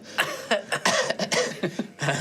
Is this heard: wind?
no